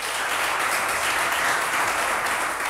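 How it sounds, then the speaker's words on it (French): A studio audience applauds a contestant on a televised game show, with dense, even clapping that fills the whole stretch at a steady, moderate level and no voices over it. "Merci de l'applaudir."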